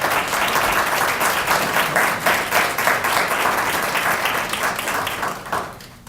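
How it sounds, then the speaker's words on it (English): Audience applause for young performers at a Black History Month celebration, a sustained, fairly loud round of many hands clapping that holds steady for six seconds before tapering off. "Let's give those young ladies one more round of applause."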